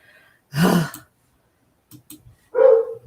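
A dog gives one loud, close bark followed by a couple of soft huffs, then a second drawn-out, whining bark, each standing alone against silence.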